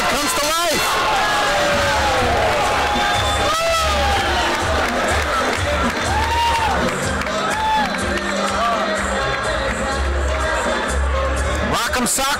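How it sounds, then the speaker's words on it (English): Fight-night crowd at a boxing event swelling into loud, sustained cheering and shouting as two boxers trade punches, with a commentator's voice running over it throughout. "And the crowd comes to life."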